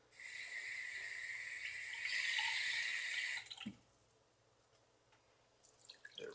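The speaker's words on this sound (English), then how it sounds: "let's add 1/4 cup of water" Water added to a mixing bowl of survival bar ingredients, a bright steady pour for a few seconds that stops abruptly, followed by faint drips and small handling noises nearby.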